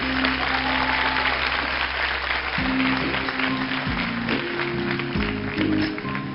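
Studio audience at a couples' game show clapping steadily, a dense, continuous patter of hands with low music tones and a voice running beneath it throughout.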